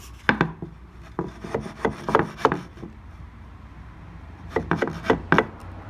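A screw driven into clamped wood on a light hobby table build, heard as irregular bursts of creaking, rubbing turns and knocks, close and fairly loud, with a quiet gap in the middle.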